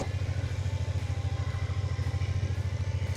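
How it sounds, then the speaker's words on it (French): BMW F450GS motorcycle rolling in first gear with its Easy Ride Clutch, a steady close engine putter with rapid even pulsing throughout, no voices. "Je vais faire le tour, je vais m'arrêter devant vous sans avoir à remettre l'embrayage"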